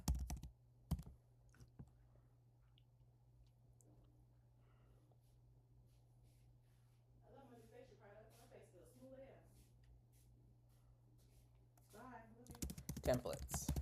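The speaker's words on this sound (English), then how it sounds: "I'm typing it in the chat so you can see it" Faint, quiet keystrokes tap on a computer keyboard over a low steady hum, and a voice speaks midway and again near the end.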